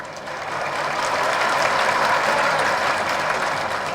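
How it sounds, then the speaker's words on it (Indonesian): Audience applauding at a tax amnesty outreach event in Balikpapan, steady dense clapping from a large crowd filling the room, continuous and fairly loud with no speech. "Kalau ikut amnesti pajak silakan tepuk tangan."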